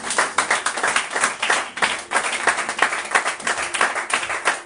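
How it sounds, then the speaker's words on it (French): A church congregation at a Sunday service applauds, with dense, rapid hand claps rising and falling in loud, continuous waves and no voices heard. "sous vos acclamations, nous allons recevoir le ministre de l'Éternel, notre papa, le prophète Niado Christian."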